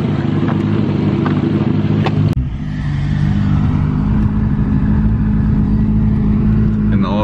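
Classic Jaguar E-type with a V12 engine, running loud and steady with a sustained low engine drone, briefly dipping near the start before continuing to rev throughout.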